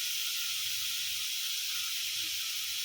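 Onion and tomatoes sauté in a pan over medium flame for an egg puff filling, giving a continuous, even, bright sizzling hiss with no break.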